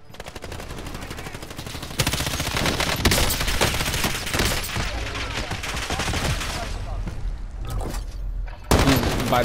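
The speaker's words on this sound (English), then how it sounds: "Somebody shot at me." Rapid automatic gunfire in a shooter video game, loud and nearly continuous with dense bursts throughout, briefly breaking up near the end before another burst.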